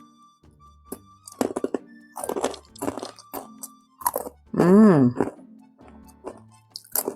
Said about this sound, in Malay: Rangup, rapuh. Memang sedap sangat kuih akar kelapa ataupun akar nyok ni.